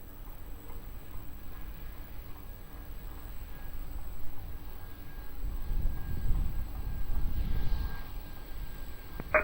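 An airplane at Lisbon Airport rumbles from a distance, its low engine roar building gradually and then holding over faint steady background hum.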